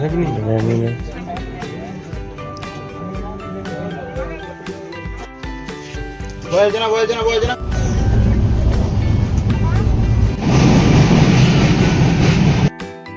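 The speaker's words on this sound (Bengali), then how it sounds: "এখন আমরা লাভডিং রেল স্টেশনে রয়েছি।" A train at Lumding railway station on a foggy day rumbles and rattles, growing louder and denser toward the end, with people talking around it.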